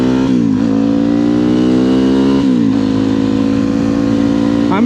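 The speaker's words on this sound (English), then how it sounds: "Funny enough, the stock exhaust on this bike's far louder than the FMF" Motorcycle with its stock exhaust, ridden on a street at low revs: a loud, steady engine note close by, dipping and climbing through a couple of gear changes, with no talking.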